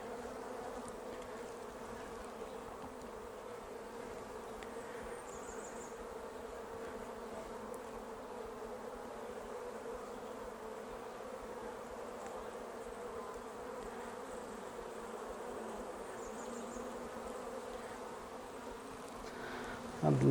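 Honey bees hum in a steady, dense drone around open hives during an inspection, close and continuous for the whole stretch with no talk over it.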